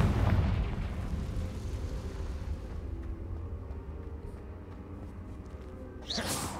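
A Confringo fire spell explodes in the Hogwarts Legacy video game, a loud booming blast that rumbles and slowly fades, followed by a sharp burst near the end.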